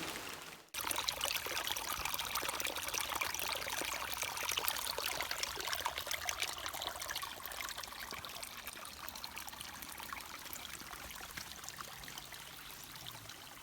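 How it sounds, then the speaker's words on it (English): Spring water from a natural spring in the Blue Mountains near Sydney, Australia pours into glass jars, a steady rushing splash that starts abruptly after a brief pause and runs continuously, fairly close, gradually softening slightly as the jar fills. "I'll better continue on and fill up the rest of my waters"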